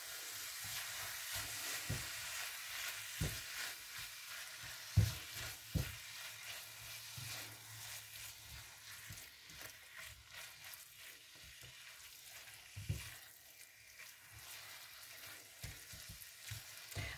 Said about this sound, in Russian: И все хорошо обжариваем.